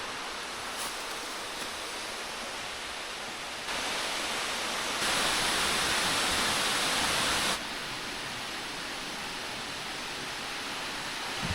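A waterfall pours over a rock ledge into a cascade, a continuous broadband rush of falling water heard alone, steady throughout with a louder surge in the middle stretch.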